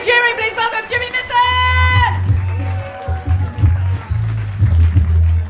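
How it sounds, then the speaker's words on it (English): Audience applause and cheering welcoming a comedian onto stage at the Australian Comedian of the Year 2025 finals, a sustained crowd roar with scattered whoops, under a host's voice and music early on. "Round the applause! Let's get louder, louder!"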